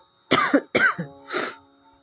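Two sharp, close coughs in quick succession, then a throat-clearing rasp and a breathy hiss, with no talking.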